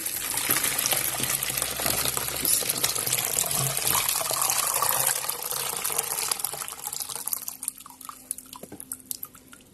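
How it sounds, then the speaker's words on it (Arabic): Boiling water pours from a kettle into a dish while pickling turnips, a steady rushing splash that runs loud and continuous, then thins into trickles and drips as the pour ends. "ومعايا مية مغلية من الكتل،"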